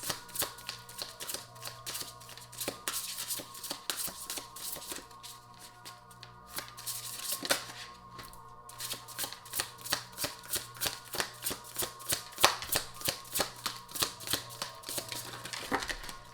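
Tarot cards being shuffled close by, a long run of rapid, crisp riffling flutters that come in repeated bursts, steady and fairly quiet with no talking.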